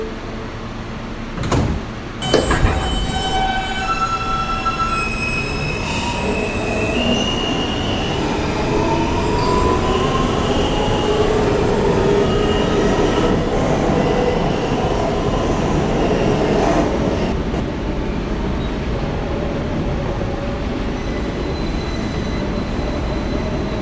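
A Brooklyn-bound F local subway train in New York rumbles steadily, its wheels squealing in rising and falling tones, with a sharp clunk near the start as it pulls away and a continuous loud roar throughout.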